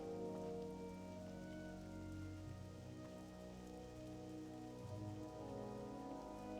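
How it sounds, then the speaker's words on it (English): Steady rain falling in World of Warcraft, a continuous soft patter layered over low sustained tonal ambience and background music, quiet and even throughout with no voices. "We get to walk in the rain."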